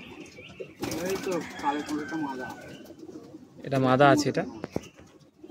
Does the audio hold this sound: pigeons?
yes